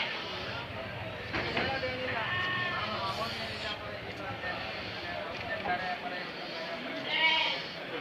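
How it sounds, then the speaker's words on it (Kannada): About eighty lambs bleat over one another in a continuous noisy flock chorus at a sheep and goat market in Tumakuru, with one higher bleat rising near the end, over steady background noise. "ಒಂದು ಎಂಬತ್ತು ಕುರಿ ಮರಿಗಳು ತೊಗೊಂಬಂದವ್ರೆ"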